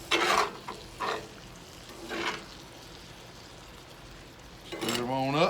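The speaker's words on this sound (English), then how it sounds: "Give them a good stir around" Sausage nacho cheese dip gets stirred in a pot on a grill: a few separate scraping strokes over a quiet sizzling background, with someone talking near the end.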